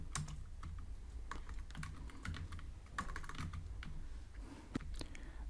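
Code being typed on a computer keyboard: steady, uneven bursts of crisp key clicks with occasional harder taps, close and fairly quiet over a constant low hum.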